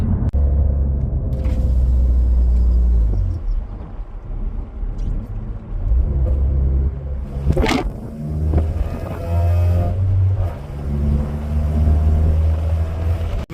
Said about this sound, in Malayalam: അതാണ് വണ്ടീൻ്റെ സൗണ്ട്. ഇതിന് മഫ്ലർ റെസിനേറ്റർ ഡിലീറ്റ് ചെയ്തിട്ടുണ്ട്.